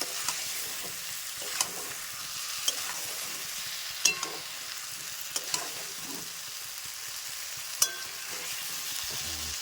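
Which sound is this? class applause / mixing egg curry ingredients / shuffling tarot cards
mixing egg curry ingredients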